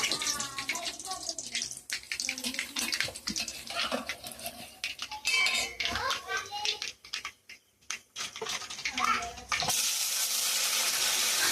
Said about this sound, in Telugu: సో ఇప్పుడైతే ఇంకా అదే ప్యాన్లో అయితే ఇంకా బెండకాయలు అయితే ఫ్రై చేస్తూ ఉన్నాను అనమాట